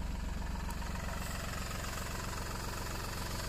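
An old car with a folding roof and a badly rusted body runs at a steady idle throughout, a low, even rumble heard fairly faintly and close with no talking.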